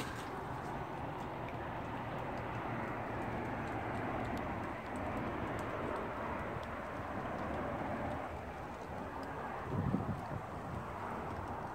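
Cold wind outside an abandoned house, a steady broadband rushing roar buffeting the microphone throughout, with a brief louder thump near the end.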